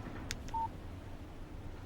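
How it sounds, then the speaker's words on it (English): A single short electronic phone alert tone rings out for a text message in the Alan Wake video game, brief and clear over a low steady background hum, with a couple of faint blips just before it. "Text message from Barry."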